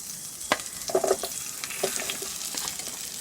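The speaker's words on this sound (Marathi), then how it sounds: "ह्याच्यातच आता आपण बटर टाकून घेऊया आणि हे उभे कापलेले आहेत मशरूम आणि ही शिमला मिरची ह्याच्यात जरा परतून घेऊया" Sliced mushrooms and capsicum sautéing in butter in a pan, a steady sizzle with scraping stirs and clinks of a spatula against the pan, close and clear with no talk.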